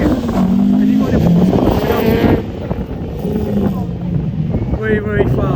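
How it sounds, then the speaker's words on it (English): A Group B all-wheel-drive rally car launches hard off the lights on a circuit, engine revving loudly nearby and then dropping away, with wind buffeting the microphone and a voice talking over it. "very, very fast, quick, off the lights, all-wheel drive, amazing car."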